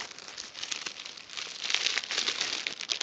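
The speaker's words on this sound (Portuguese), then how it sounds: "Não consigo abrir essa sacola." Crinkly gift bag handled while someone struggles to open a birthday present, with continuous close plastic rustling and crackling that grows louder and busier toward the end.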